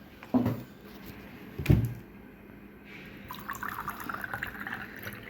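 Water is poured into a vessel in brief splashy bursts, followed by softer trickling and faint handling noises indoors, with no talking.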